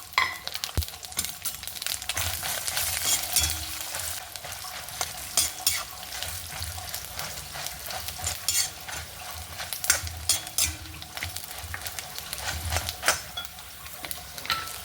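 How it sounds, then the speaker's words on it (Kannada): Mustard seeds pop and splutter in hot oil in a pan with urad dal, chana dal and fenugreek for a Malabar spinach stir-fry. Steady crackling sizzle is broken by sharp ticking pops and occasional scraping stirs, close and continuous. "ಸಾಸಿವೆ ಹುಟ್ಟುತ್ತಾ ಇತ್ತು."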